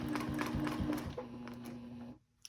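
A sewing machine stitching a quilt seam with rulers, a fast close mechanical whir of needle strokes running steadily for about two seconds before stopping abruptly.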